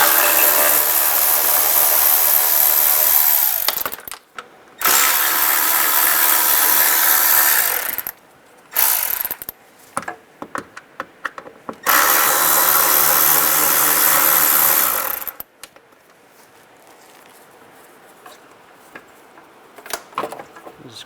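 A power driver with a T20 socket backs out the fog light screws on a 2011-2025 Dodge Durango, whirring in several long close bursts separated by short pauses, with no talking.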